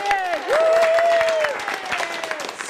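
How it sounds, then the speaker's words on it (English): Audience applause breaks out for a prize draw winner at a charity awards event, dense clapping sustained throughout with a sung or whistled melodic tone gliding over the top. "Well, everyone applaud."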